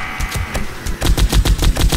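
Automatic turret gunfire in the survival game 7 Days to Die, a loud rapid stream of close, evenly spaced shots that thickens into denser bursts in the second half, with no talk.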